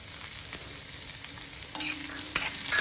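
Onions going into oil for a radish chutney, a faint steady sizzle that swells as they hit the pan, with a few sharp utensil knocks and stirring scrapes.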